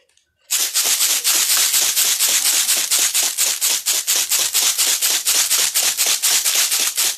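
A homemade water bottle maraca is shaken in a fast, steady rhythm after a moment of quiet, producing loud close rattling bursts of loose filling against plastic, with no talking.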